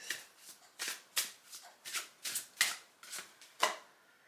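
A deck of cards is shuffled for a card reading, about a dozen quick crisp riffling bursts in an even rhythm, close and fairly quiet.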